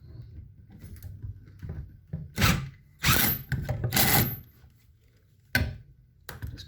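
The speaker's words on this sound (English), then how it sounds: "it's just a matter of inserting the screw again and tightening it up." Screws being driven and tightened by hand during assembly of a 1.5 m by 0.8 m awning, giving a few short, close clicks and scraping bursts between quiet pauses.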